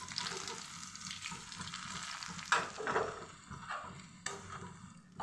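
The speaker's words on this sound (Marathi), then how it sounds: "तर आपल्याला रवा भाजून घ्यायचा आहे" Semolina roasts in ghee in a pan over medium heat, giving a soft continuous sizzle broken by a few sharp scrapes and stirring knocks.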